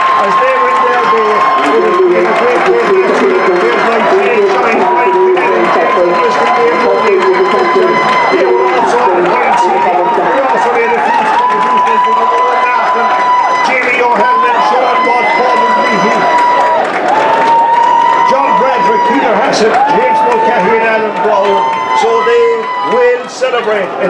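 A large crowd of over 7,000 at a schools' hurling final cheers and roars continuously at the full-time whistle, a dense, sustained wall of shouting with a commentator's voice audible over it throughout.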